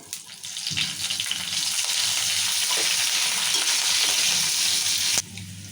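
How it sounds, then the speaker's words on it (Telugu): Peanuts and chana dal fry in hot oil for tamarind rice (pulihora), giving a loud, steady, close sizzle with light stirring that runs almost without a break. "ఇప్పుడు పల్లీలు వేస్తున్నా ఇంకా శనగపప్పు కూడా వేసుకున్నా ఈ పల్లీలు శనగపప్పు నూనెలో మంచిగా వేగాలి"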